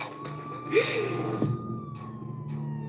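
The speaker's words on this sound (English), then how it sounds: "An ambulance rushes Shauna and her mother to the hospital" A steady ambulance siren tone holds across the clip, sounding somewhat distant, with a brief bump and scrape of movement partway through.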